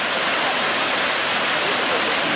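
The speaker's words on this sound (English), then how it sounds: "Look at beautiful Helton Falls." Helton Falls, a North Georgia waterfall running strong, fills the air with a loud, steady roar of rushing water, broad and unbroken throughout.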